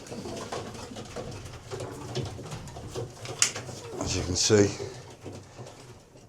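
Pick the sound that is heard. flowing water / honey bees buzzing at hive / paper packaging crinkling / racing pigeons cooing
racing pigeons cooing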